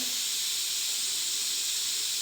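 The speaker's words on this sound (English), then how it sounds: "you can see when I vented, there was still some steam" Steady, continuous steam hiss from a pressure cooker's vent while releasing pressure after cooking kala chana, with no pauses or change through the whole stretch.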